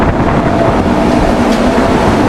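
The Karnataka Mail passenger train rolls into a railway station, a loud, close, continuous rumble of wheels and carriages with wind buffeting, unbroken throughout and no voices.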